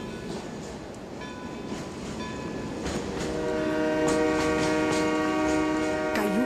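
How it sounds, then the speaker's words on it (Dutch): A train draws near, its horn sounding in long tonal blasts over a steady rolling rumble that grows louder as it approaches, with no speech over it. "ik hoor de trein, hij komt eraan."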